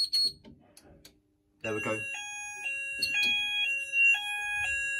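Sounder on a Syncro AS two-loop addressable fire panel, triggered from a zone 4 detector, bursts into a loud electronic alarm of alternating high tones after brief speech, pulsing steadily while a voice talks over it.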